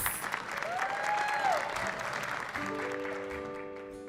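An audience applauding a band at an awards event, a steady crowd clap that fades as a tonal music note sustains toward the end.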